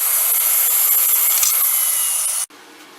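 A table saw with the miter gauge set at 45 degrees cuts the tip off a wooden barrel piece for a homemade water balloon gun, a loud, steady high-pitched rasping whine that stops abruptly near the end.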